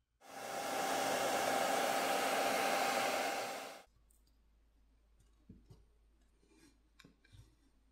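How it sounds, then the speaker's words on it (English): A hairdryer blows loudly and steadily for a few seconds, heating the adhesive on a Motorola Razr Ultra 2025 phone during a teardown, then cuts off, leaving quiet clicks and small handling sounds. "I prefer to use a hairdryer"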